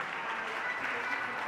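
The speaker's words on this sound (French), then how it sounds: "Acclame bien pour le Seigneur Jésus" A church congregation applauds for Jesus in a steady, dense wash of clapping that neither builds nor fades, with voices mixed into the crowd noise.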